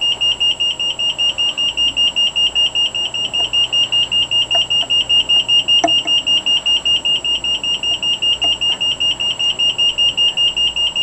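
Emergency alert alarm from a home emergency call system, a steady high electronic tone pulsing rapidly and continuously at loud level, with no voices.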